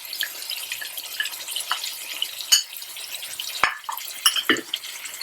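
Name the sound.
pumpkin curry being stirred in oil in a pan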